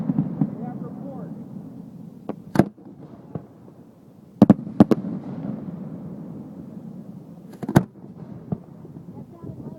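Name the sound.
daylight fireworks shells exploding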